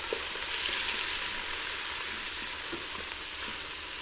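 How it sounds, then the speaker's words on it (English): Whole garlic cloves sauté in a pressure cooker pot, giving a steady, close, broadband sizzle that holds evenly throughout, with a few faint stirring clicks and no talking. "Saute those just a little bit so they get fragrant"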